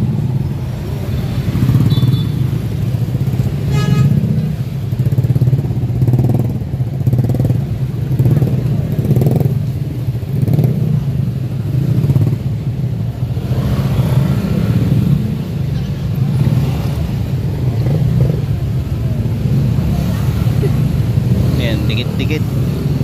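Heavy, congested road traffic on a wide highway near Quiapo Church in Manila, a loud, continuous low engine drone close by, with a person speaking throughout.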